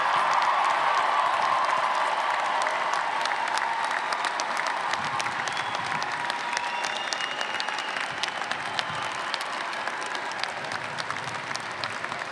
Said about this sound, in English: Would everyone please give a round of applause for our graduates this afternoon?